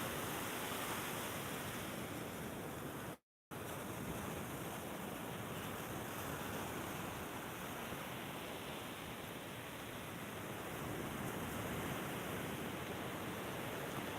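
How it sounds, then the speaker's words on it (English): Steady broadband wash of ocean waves rolling onto a beach, continuous and fairly loud, with a brief dropout early on and no talking. "the sound of the waves is totally different here than down by the pier"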